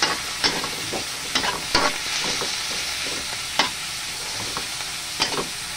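Bean sprouts, tofu and pork stir-fried in a pan, with a steady low sizzle broken by sharp scraping and tossing strokes at irregular intervals, close and moderately loud, no voices.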